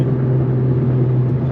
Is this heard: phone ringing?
no